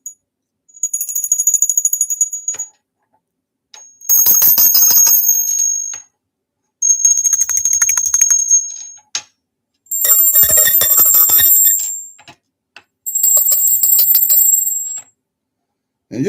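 Small angel bells ring in five long bright bursts separated by brief pauses, each a shimmering high metallic tone that lingers and reverberates, close and unaccompanied.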